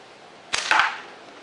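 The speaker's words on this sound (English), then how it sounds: "Now you can hear that hits a lot harder." A paintball fired from a slingshot at a target gives a sharp nearby smack followed by a quick second thwack and a short rattling decay, one loud impact over quiet background.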